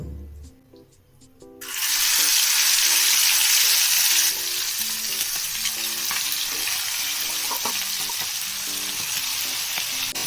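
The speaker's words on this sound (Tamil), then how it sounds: "ஆயில் நல்லா சூடாயிடுச்சு. இப்போ இந்த சிக்கனை அதுல சேர்த்துடலாம்." Chicken pieces hit hot oil in a pan for chicken fried rice, bursting into a loud, steady sizzle after a quiet start and holding close and continuous.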